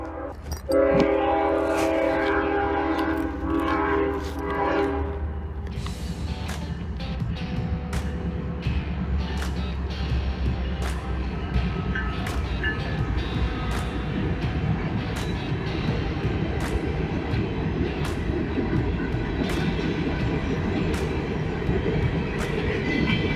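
A train rumbles past close by at the Point of Rocks train station for a long stretch, a steady roar of wheels with repeated clacks on the rails and a horn sounding near the start.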